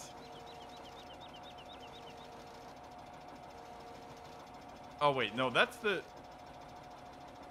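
A tractor engine in a farming simulator game knocks with a steady mechanical drone and quick, regular ticking early on, and a voice speaks briefly near the end.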